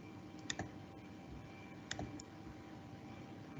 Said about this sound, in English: just press Enter on your keyboard.